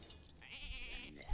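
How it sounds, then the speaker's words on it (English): A sheep bleat sound effect from the card game Hearthstone, a single short wavering bleat played fairly quietly, with no voices over it. "I love that sheep sound."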